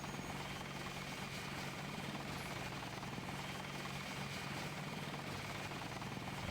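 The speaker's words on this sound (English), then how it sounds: "I've got a chopper." A helicopter in the video game Deus Ex drones continuously with a steady rotor chop and engine whine, holding an even, fairly loud level from start to finish with no talking.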